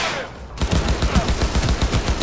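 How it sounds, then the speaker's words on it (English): Rapid automatic gunfire in the video game Cyberpunk 2077 bursts in after a brief lull, a loud and steady stream of close shots over a dense background, with no talking. "Just impaled his head with so many bullets."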